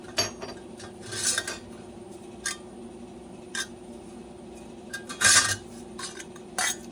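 Metal grater attachment being fitted onto a KitchenAid Pro stand mixer, a series of sharp clinks and scraping clatters at irregular intervals, close and fairly quiet.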